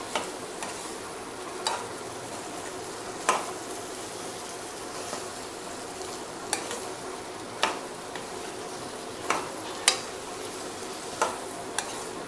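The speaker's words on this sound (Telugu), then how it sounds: "ఈ ఆలు ముక్కలను కూడా వేసుకోవాలి. బాగా కలిపి పెట్టాలి." Potato pieces being stirred in a pan for aloo kurma, a steady low frying sizzle broken by scattered sharp scrapes and clicks of the spoon against the pan, close and moderately quiet with no talking.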